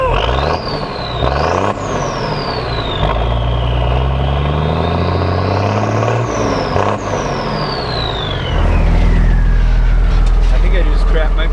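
An M35A2 military truck with an FDC bypass runs on its first startup, a loud diesel rumble that revs repeatedly with rising and falling whines before settling into a heavier steady roar.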